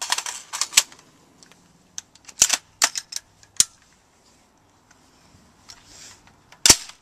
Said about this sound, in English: You should have slid the bolt home slowly.